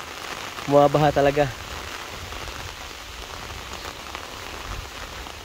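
Heavy rain pours down in a steady hiss near railway tracks during a storm, while someone briefly speaks over it near the start.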